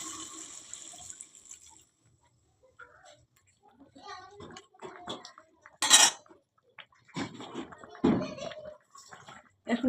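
Hot water poured into a pan of vegetable curry with rohu fish: brief splashing pours and clinks of utensils against the pan, close by, broken by a voice speaking between them.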